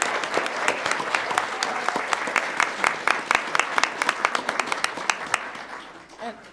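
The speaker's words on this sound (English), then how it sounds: "Let's give him another round of applause." An audience at a school board meeting applauds, close and fairly loud, with distinct individual claps standing out from the crowd's steady clapping before it fades away.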